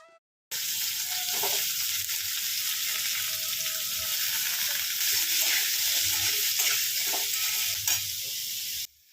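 Cut potatoes and onions sizzle steadily in a pan on a home stove for a potato curry, a dense continuous frying hiss with occasional stirring clinks, close and fairly loud, no voices.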